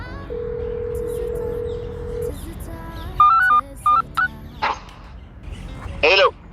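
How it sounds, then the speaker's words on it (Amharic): An outgoing call tone sounds over a phone line, a long steady tone followed by short beeps and brief chirps, with faint background noise. "ስልኩ እየጠራ ነው።"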